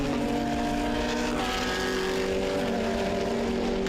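Several GT race cars roar together at the start of a sprint race at the Hungaroring, a dense, steady wall of engine noise with layered harmonic tones holding loud throughout, no voices.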